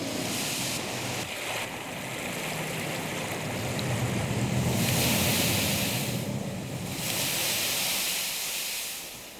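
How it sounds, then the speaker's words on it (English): Surf rolls steadily onto the shore at Milford Sound, with waterfalls in the setting, a broad, close wash of waves that swells and eases in slow surges with no voices. "We are having this shore sound."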